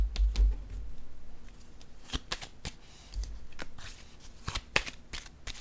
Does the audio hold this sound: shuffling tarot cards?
yes